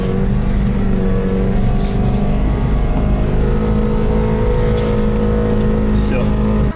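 A car engine droning at high revs from inside the vehicle, a loud steady hum with harmonic whine, while someone talks over it.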